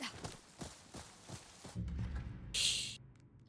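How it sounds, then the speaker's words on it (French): A horse's hooves clop in a steady trotting rhythm in the video game Ghost of Yōtei, close and moderate in volume, followed by heavier thuds and a brief hissing burst. "Vas-y, prenons le cheval."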